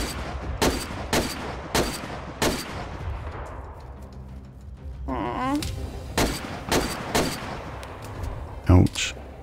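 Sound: gunfire from the video game DayZ

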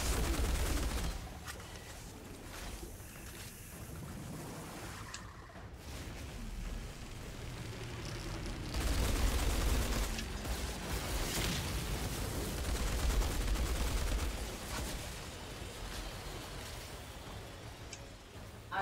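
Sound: gunfire in a video game

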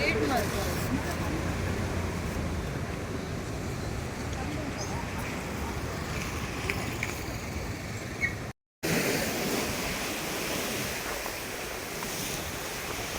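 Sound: ocean waves breaking on the shore

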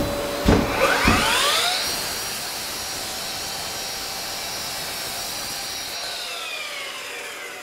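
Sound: Bosch Professional 18V cordless saw cutting a small wooden strip

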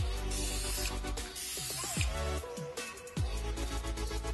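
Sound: spray can spraying tint onto car tail lights

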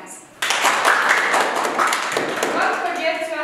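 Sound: group of students clapping hands

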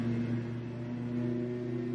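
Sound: lawn mower running in the background

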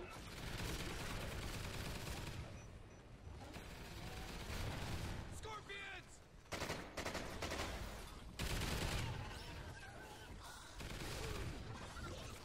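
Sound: sentry gun firing in video game

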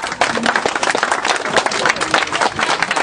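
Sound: applause

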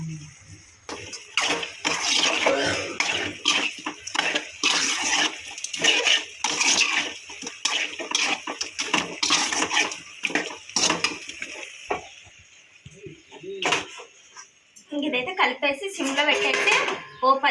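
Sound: mixing mutton curry with tomato and spices in a pot

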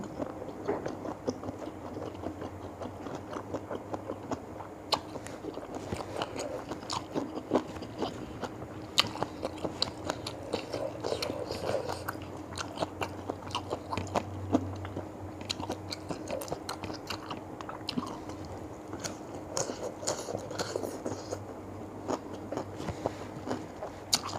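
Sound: chewing mushrooms wrapped in pork

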